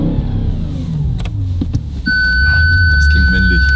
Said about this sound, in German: Jetzt kriegt er aber das allererste Mal unseren schönen V8-Sound hier